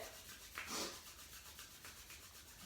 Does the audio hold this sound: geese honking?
no